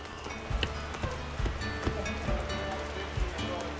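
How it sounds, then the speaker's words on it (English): Heavy rain pours down outdoors onto umbrellas, a steady dense hiss with scattered louder drop impacts and patters, continuous throughout with no clear talk. "Oh, still pouring rain outside."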